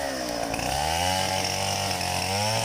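A chainsaw roars loudly and close, its engine pitch shifting as it bites into a coconut tree trunk, continuous throughout without any voices.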